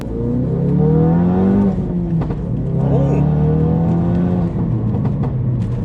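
A 400 BHP Mountune-tuned Ford Focus RS engine revs and drones up and down, loud and close, with rising and falling exhaust pitch and exhaust pops and bangs, and voices faintly underneath.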